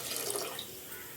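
Water is poured into a cooking pot for pulao rice, a short steady splashing pour heard close up with no talking.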